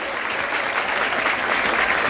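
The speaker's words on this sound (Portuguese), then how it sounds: "Palmas." A crowd at a Brazilian street rap battle, Batalha da Leste, bursts into loud, steady applause and cheering that fills the whole moment without a break.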